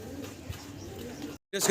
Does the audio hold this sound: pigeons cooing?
yes